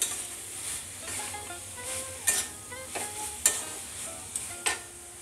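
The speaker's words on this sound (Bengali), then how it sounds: "ভালো করে নেড়ে দিয়ে মোচাটা আমি নামিয়ে নেব" Banana flower posto ghonto is stirred in a pan, a soft sizzle underneath rhythmic spoon scrapes and a few sharp metallic taps roughly every second; close and fairly quiet, with no voices.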